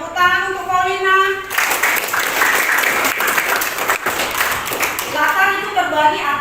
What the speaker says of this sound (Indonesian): Tepuk tangan untuk Paulina.